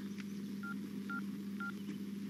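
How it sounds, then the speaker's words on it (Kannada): Telephone keypad dialing tones from a phone in a Kannada comedy film scene: three short beeps spaced about half a second apart, set against a steady low hum, with no talk. "ಪ್ರಿಯಾ ಲೇ ಅವನು ಫೋನ್ ಮಾಡಿ ಈಗಲೇ ಬರಕ್ಕೆ ಹೇಳು"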